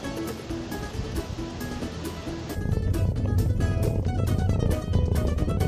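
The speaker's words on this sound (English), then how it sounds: "there's a waterfall here in town" A waterfall in a small Michigan town gives a continuous wash of falling water that swells louder about halfway through, with no clear speech over it.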